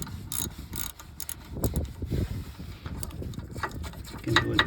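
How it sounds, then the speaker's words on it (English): A ratchet with a 17mm socket loosens a bolt while a wheel bearing assembly is replaced on a 2009–2015 Toyota Venza: close clicking and grinding mechanical sounds in uneven bursts, with some workshop noise and a faint voice. "Put my 17mm on with a ratchet, and it goes easy."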